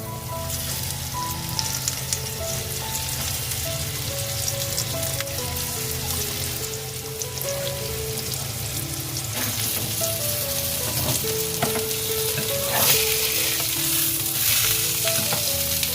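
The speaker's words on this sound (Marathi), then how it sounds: "आपण सुरमईचा पीस मस्तपैकी या मसाल्यामध्ये व्यवस्थित लावून आपल्याला फ्राय करायचं आहे" Masala-coated surmai kingfish pieces fry in hot oil with a loud, continuous crackling sizzle that stays dense throughout, while faint tonal music plays softly in the background.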